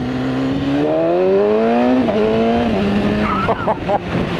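A BMW S1000RR sport motorcycle accelerating hard, its loud, close engine note climbing in pitch through the gears with short shifts and brief dips between them, and rider chatter faintly beneath toward the end.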